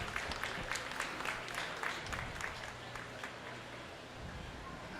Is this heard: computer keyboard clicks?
no